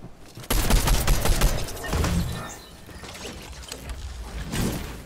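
Shotgun gunfire in the Fortnite video game, a burst of sharp loud blasts and mechanical clatter near the start, then lighter rattles and scattered impacts fading into quieter game noise.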